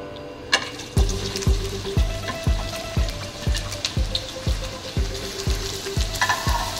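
Chopped onions go into a pot of hot oil for a mutton naan gosht korma and fry with a steady loud sizzle, while a spoon scrapes and stirs in a regular rhythm of about one stroke per second.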